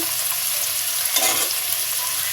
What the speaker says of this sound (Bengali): চিংড়ি মাছ দিয়ে দিলাম রসুন দিয়ে দিলাম একটু জিরে দিয়ে দিচ্ছি